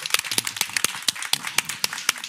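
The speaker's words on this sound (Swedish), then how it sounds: "Applåd för dem." A small audience at a Swedish crime-fiction festival claps for two authors, a short burst of scattered, distinct handclaps at fairly close range with no voices over it.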